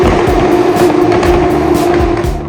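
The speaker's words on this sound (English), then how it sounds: "how good do those F2 cars sound?" F2 race cars roar past at a circuit on race day, a loud, continuous deep engine growl with rising and falling pitch as the cars go by.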